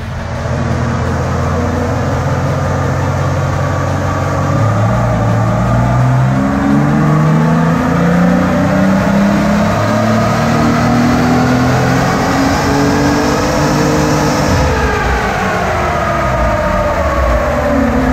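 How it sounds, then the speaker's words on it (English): Turbocharged car converted from a supercharger revs on a dyno, its loud engine note climbing steadily in pitch under load and then easing near the end, with no talking. "Okay, now we'll just get the speed on the dyno."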